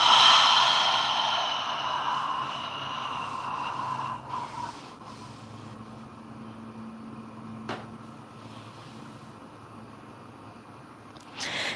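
A woman breathes deeply in and out while doing a postpartum upper-ab exercise for diastasis recti. The breaths are soft and close, with a strong exhale at the start, then quieter breathing and a few light bumps.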